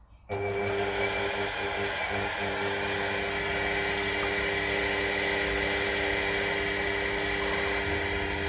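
A tapping drill whines steadily and loudly after a sudden start, boring a 2.5mm hole for a 3mm thread on a Myford lathe, a constant high-pitched motor drone with faint clicks underneath.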